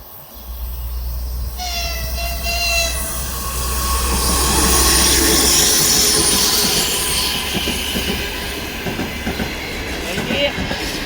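Train passing through a suburban railway platform stop, with loud rumbling wagons, clickety-clack of wheels and squealing metal, plus a brief horn-like tone early on, close and steady throughout.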